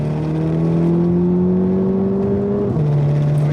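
Volkswagen T-Roc R in race mode, the engine revving up in one smooth rising drone from inside the cabin, then a quick shift drop in pitch near the end as it keeps pulling, loud and close.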